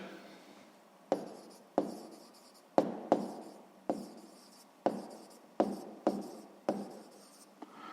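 Pen writing out a sixth-grade math exercise solution on paper, a series of close scratchy strokes in short bursts with brief pauses between them, no talking.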